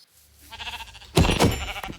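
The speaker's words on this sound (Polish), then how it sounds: "Owce!" Sheep bleat a couple of times up close, wavering nasal calls following a quieter stretch of low background noise, from the video game Minecraft.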